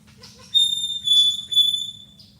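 A lyrebird gives loud, piercing whistled notes in three bursts, each a pure sustained tone with sharp onsets, over a low steady rumble of background noise.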